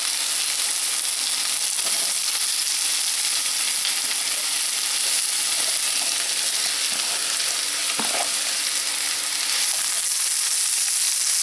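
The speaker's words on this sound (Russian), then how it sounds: "Влила в сковороду масло и отправляю туда половину лука. Половину лука и морковь натертую." Half an onion and grated carrot fry in oil in a pan, giving a steady, close sizzle and crackle with a few faint stirring scrapes and no talking.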